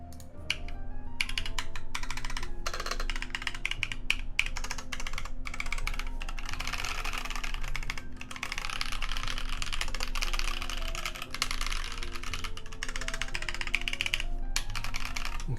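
Typing on a Tokyo60 mechanical keyboard with an HHKB layout, a fast continuous run of close, crisp key clacks with brief pauses between bursts, no talking.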